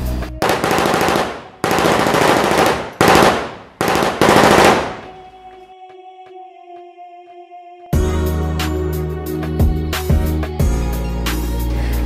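Automatic gunfire of a four-man firing squad in an execution: several long, loud bursts in quick succession, then a quiet ringing pause before heavy, dense shooting returns.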